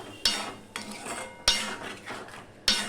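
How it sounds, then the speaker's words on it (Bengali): A utensil stirs and scrapes spice paste of turmeric, ground spices and a splash of water as it fries in a pan for a pointed gourd (potol) curry, with sharp metallic strokes repeating about every second over a steady soft sizzle. "এবার মশলাটা আমি ভালো করে কষিয়ে নেবো"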